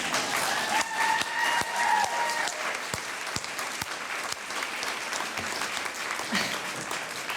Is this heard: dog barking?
no